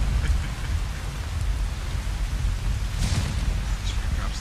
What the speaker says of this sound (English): Oh my god, it's so fucking stormy.